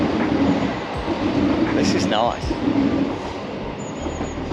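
A train rolls past a quiet station in the evening, a low steady rumble with brief wheel squeals partway through, while a person talks over it.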